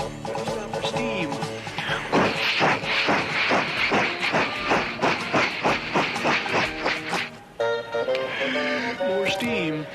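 A voice imitates a long steam train: a rhythmic run of chuffing, hissing bursts that speeds into a steady clickety-clack, then breaks into whistle-like tones near the end.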